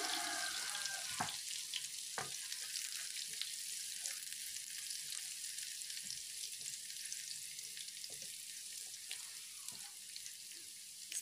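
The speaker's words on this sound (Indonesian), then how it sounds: "Tumis cabai, bawang putih, dan jahe sampai harum" Chili, garlic and ginger sauté in a pan, giving a steady, close crackling sizzle throughout with a few sharp spatters and light utensil knocks, and no talking.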